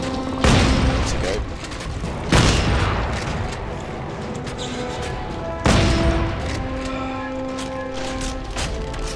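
Three heavy blasts from a space shotgun in the sci-fi shooter Dead Space 3 land a couple of seconds apart. Each is a loud, close boom with a decaying tail over a busy game soundscape.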